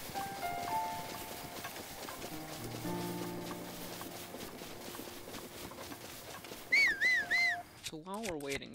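Horse hooves clip-clop in the video game Breath of the Wild, a faint, steady patter of light beats beneath background game music and tones, with a few louder chirping sounds near the end.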